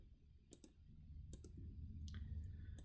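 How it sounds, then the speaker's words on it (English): Computer mouse and keyboard space bar presses sound as sharp, quiet clicks in pairs, with soft room hum between them. "Right click enter, hit space bar again on the keyboard."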